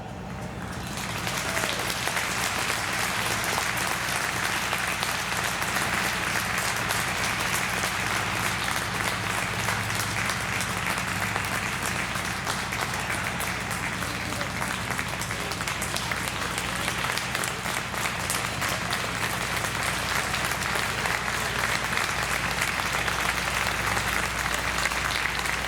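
A standing crowd at an outdoor gun-regulation rally in Haddon Heights claps continuously, a broad, even wash of applause that holds steady at a strong level for over twenty-five seconds with no talk.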